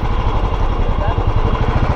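A motorcycle engine idling at the M2M RoRo ferry terminal for Mumbai to Alibag, a steady close low chugging throb running throughout, with a voice talking over it.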